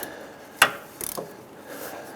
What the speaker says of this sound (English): with our ratchet. See if we can break that free.